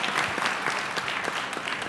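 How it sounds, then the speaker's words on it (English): An audience at a town hall meeting applauds a volunteer, a continuous crowd of hand claps, fairly close and steady for the whole stretch. "we deserve to give her a great big hand clap for that"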